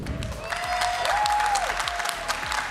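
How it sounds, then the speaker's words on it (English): Arena crowd at a VCT EMEA 2026 Stage 2 playoff esports match, cheering and applauding in a steady, dense roar, with a faint rising whistle-like tone and a few low thumps in the mix. "So keep cheering. We hear it. We actually can hear you back here."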